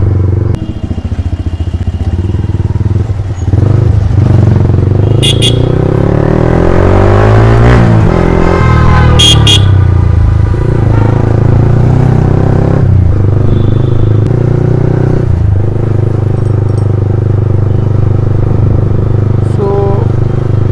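A motorcycle ridden on a road in Kolkata, its engine droning steadily and close throughout with some revving and passing traffic, while a voice talks over it.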